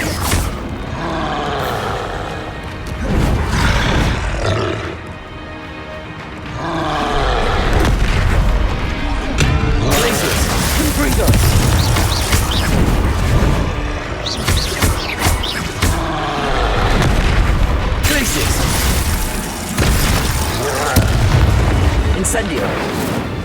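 Repeated Confringo blasting-spell explosions in the Hogwarts Legacy video game: loud deep booms and bursts recurring through the stretch, with a brief quieter gap, layered over dense game effects and music.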